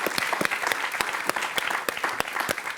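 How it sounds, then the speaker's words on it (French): Studio audience at a French TV quiz show applauding steadily, a dense wash of many hands clapping close and loud throughout with no break. "Je crois qu'on peut applaudir Lilou parce que elle est étonnante"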